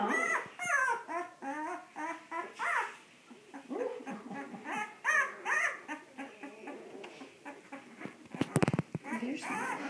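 Ten-day-old newborn puppies whimper and squeal in a close, busy series of high yips and whines, nearly continuous across the clip, while an adult talks softly over them.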